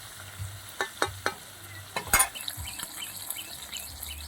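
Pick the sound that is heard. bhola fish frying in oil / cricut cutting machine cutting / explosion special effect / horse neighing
bhola fish frying in oil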